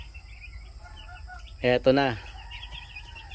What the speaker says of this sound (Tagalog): At masigla ang ating mga manok.